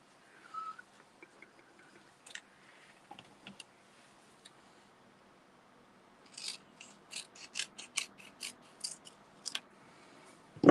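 Scissors snip through release paper for diamond painting in a quiet room, a few scattered cuts at first, then a quick series of crisp clicking snips close by.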